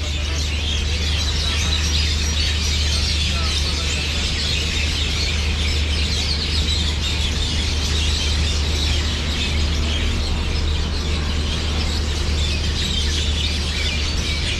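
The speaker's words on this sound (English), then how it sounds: "Can you hear that sound? The birds singing." A dense chorus of birds sings in a large, bushy green tree at evening in Umhlanga Rocks, South Africa. The chirping is steady, continuous and fairly loud, with a low hum beneath it and no talking.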